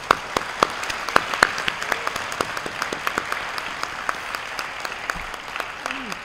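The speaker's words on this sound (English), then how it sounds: "I'd like to just give you all a round of applause." An audience applauds at a school committee awards evening, producing a steady wash of clapping for several seconds with distinct individual claps standing out. A voice is faintly heard near the end.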